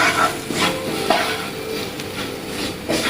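Chili pieces fry in hot oil in a pan over a low flame, with steady sizzling and a few soft scrapes and clinks of a spoon stirring, close and alone without speech.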